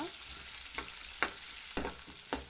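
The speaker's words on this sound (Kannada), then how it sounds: "ನಾವು ಈರುಳ್ಳಿಯನ್ನು ಹಾಕಿಬಿಟ್ಟು ಚೆನ್ನಾಗಿ ಮಿಕ್ಸ್ ಮಾಡೋಣ" Onions stirred and frying in a pan for okra sambar, a faint sizzle under a few distinct spatula scrapes spaced about half a second apart, close by with no voices.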